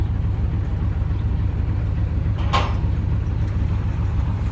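A newly built Thai combine harvester with a JO-pump engine runs at a steady idle, its continuous low diesel drone filling the clip, with a short hissing burst partway through.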